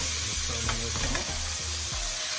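BBQ pork chops sizzling in a pot as they are flipped, a constant loud frying hiss with scraping and clattering from the turning.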